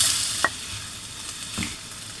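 Tomatoes frying in a pan with ginger and onion for kinamatisang manok, a steady low sizzle with a couple of brief stirring scrapes, no talking.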